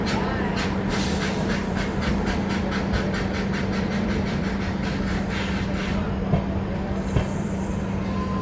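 The Janta Express, led by a WAP-7 electric locomotive, rolls past with a steady loud rumble and a regular clickety-clack of wheels over rail joints, plus a constant low hum, for several seconds.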